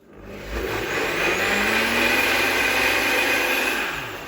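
A blender whirs steadily for about four seconds as it blends rice flour hopper batter, a loud, even motor drone with a slowly rising pitch and no talking.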